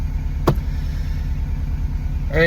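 A Subaru WRX sedan on the road gives a steady low engine rumble from inside the cabin, with a sharp click early on and a brief rising whine near the end.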